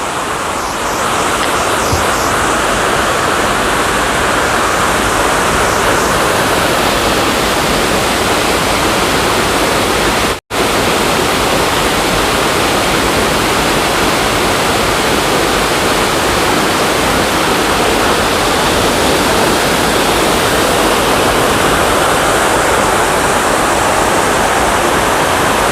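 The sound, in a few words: waterfall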